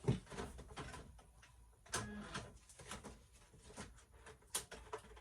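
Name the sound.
Silhouette Cameo cutting machine loading the mat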